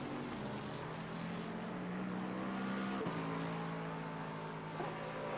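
A race car in Assetto Corsa Competizione at Indianapolis Speedway pulls into the pit lane with a steady, droning engine note that holds nearly level throughout, fairly faint, alone with no voices.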